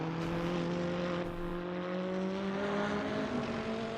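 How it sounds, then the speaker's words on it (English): A race car engine in a racing video game at Sebring revs hard and steady, with its pitch climbing slowly across the clip and a continuous whir beneath it. "I am, that's why I'm revving hard."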